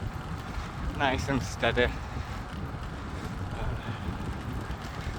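Low, blustery wind buffeting the microphone throughout a road bike ride on a breezy, gloomy day, a steady rumble under a voice talking briefly near the start.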